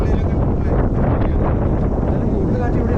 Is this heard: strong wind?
yes